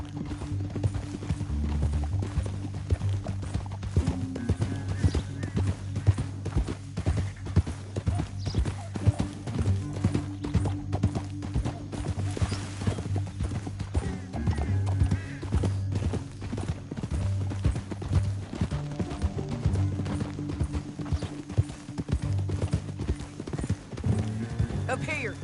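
Horses' hooves clip-clop steadily and close throughout, a continuous trotting rhythm over a low rumbling bed, with voices talking over it at times, in a Western-style scene set in a canyon.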